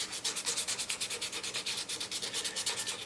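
Rhythmic hand sanding on a custom quilted wooden mandolin body, quick even back-and-forth scrapes, about eight strokes per second, close and steady with no talking.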